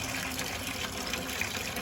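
Clean, cool water rinses through a Carpigiani 1131 soft-serve machine during cleaning, a steady close rushing and splashing flow that holds even throughout with no voices.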